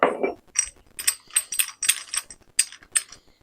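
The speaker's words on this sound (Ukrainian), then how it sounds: "Треба взяти ключ і відкрутити цю гайку." A wrench turning the nut on a Procraft PTA24BL cordless trimmer gives a run of about ten short, bright metallic ratcheting clicks in an uneven rhythm, close by and with no talk.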